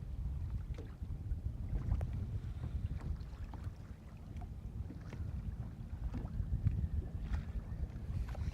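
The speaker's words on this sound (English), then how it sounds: "The wind is starting to pick up." Wind picking up over Lake Guntersville during a fishing outing from a boat, a steady low rumble of gusts buffeting the microphone, with faint water slap and small knocks against the hull throughout.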